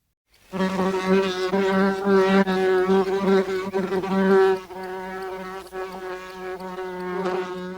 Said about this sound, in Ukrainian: Бджола годить.